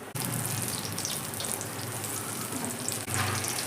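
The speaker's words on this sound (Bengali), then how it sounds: "এইভাবে আমি একে একে সমস্ত পকোড়াই ভেজে নিচ্ছি।" Sponge gourd pakoras deep-frying in hot oil, a dense, continuous bubbling sizzle heard close and steady throughout, with no talk over it.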